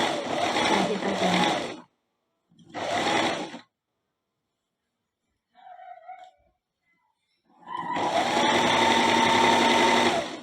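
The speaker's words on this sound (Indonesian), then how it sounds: "Sekarang tinggal jahit aja." A sewing machine stitches cotton batik fabric in a one-set outfit, running in loud, close bursts of rapid whirring broken by silent pauses and a faint thin sound in between.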